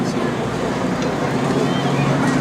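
The round radial engines of an SB2C Helldiver, a World War II Navy dive bomber, at a joint services open house: a loud, steady, dense roar with no breaks, close by and unchanging throughout.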